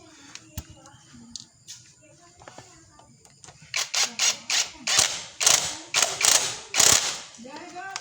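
A ratchet tool clicks in a rapid series of loud, close bursts while tightening the oil pan bolts on an older Toyota Supra, with quieter mechanical handling before it.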